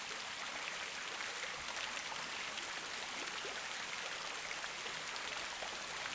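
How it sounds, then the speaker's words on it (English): Steady, close stream of flowing water, a continuous even rush and patter with no pauses and no voices. "as you hear the sound of the water"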